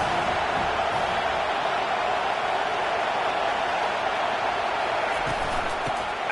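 Stadium crowd at a college football game between OU and Arkansas, a steady, dense roar of a large crowd that holds constant throughout and stays loud and enveloping.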